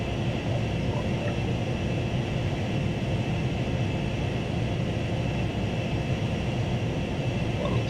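AV-8B Harrier II jet in Flight Simulator X, a constant loud engine rumble and roar holding steady throughout without speech.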